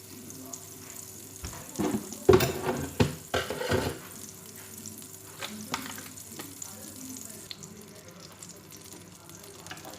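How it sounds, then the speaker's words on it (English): Butter hits hot olive oil in a pan and sizzles, with a few sharp crackling pops and stirring clatter early on before settling into a quieter, steady low sizzle. "So our oil is hot. I'm going to add a small portion of butter"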